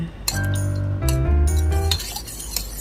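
A utensil clinks and scrapes against a pot while pork is stirred with sugar and dark soy sauce, giving a few bright metallic knocks in quick succession, close and fairly loud, with no talking.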